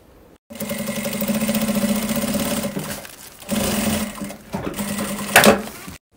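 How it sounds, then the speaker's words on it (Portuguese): A sewing machine stitches the side seam of a thermal bag, whirring steadily in two close, loud runs with a short pause between them and a brief clatter near the end. "a gente vem passando uma costurinha até encontrar com essa outra."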